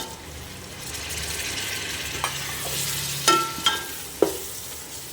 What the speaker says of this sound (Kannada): ಇದು ಟೊಮೆಟೊ ಹಾಕೋತಾ ಇದ್ದೀನಿ ಇದು ಮೂರು ಟೊಮೆಟೊ ಫಾರಮ್ ಟೊಮೊಟೊ